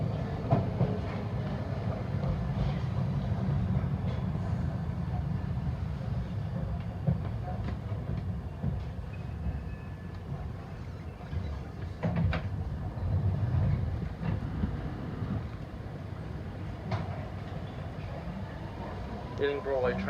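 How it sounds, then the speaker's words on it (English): A London Underground Piccadilly Line train runs through a station on the line between Uxbridge and Cockfosters, a steady low rumble with wheel clicks and squeals over twenty seconds while someone talks over it. "There's a Piccadilly Line train possibly going to Heathrow,"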